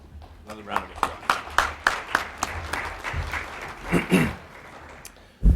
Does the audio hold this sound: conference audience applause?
yes